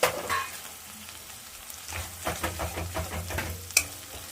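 Paste of ginger, dried chili and cumin stir-fried with onions in a pan for a cauliflower fish curry, with a close, steady sizzle and a run of rhythmic scraping stirs ending in a sharp clink.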